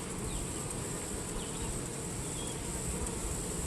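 Honey bees buzz in an open beehive during an inspection, a dense steady drone of many insects, close and continuous throughout.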